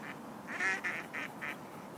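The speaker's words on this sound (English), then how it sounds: "Hello, duck." Ducks at Burnaby Lake give a short run of quacks, about five nasal calls at moderate distance in a quiet outdoor setting.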